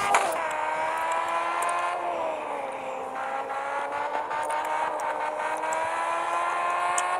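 Simulated car engine in the Car Parking mobile game, a steady tonal whine that holds level and dips slightly in pitch, with faint clicks over it and no talk.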